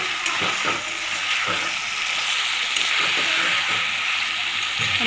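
Marinated chicken pieces stir-fried in a pan with softened tomato, for a black-pepper chicken dish, sizzle loudly and steadily up close, broken by repeated scraping strokes of a stirring spoon.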